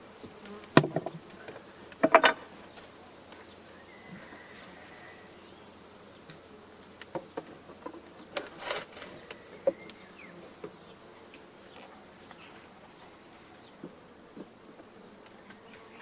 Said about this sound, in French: Au niveau des abeilles, il y en a un peu plus.